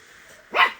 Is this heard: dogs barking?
yes